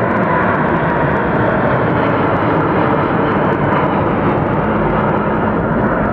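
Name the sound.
Boeing 747 airliner taking off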